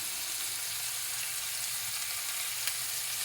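Fish frying in a pan of hot oil, a steady, dense crackling sizzle that holds even and close throughout with no voices.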